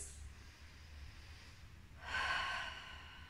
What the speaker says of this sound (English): just hold here, taking three breaths.